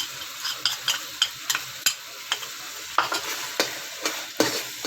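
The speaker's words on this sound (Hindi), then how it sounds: "इन सब चीज़ों को अच्छे से मिक्स करके" Spoon stirring black pepper powder through chicken macaroni ingredients in a pan, a steady run of scraping strokes with sharp clinks against the metal over a soft sizzle, close and moderately loud with no talking.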